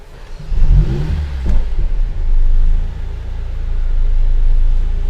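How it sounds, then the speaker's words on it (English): A 2020 Mercedes-AMG A45 S fires up in race mode, a brief crank and flare giving way to a loud, steady low rumble that settles into a throaty idle with no talking. "and I will start the engine."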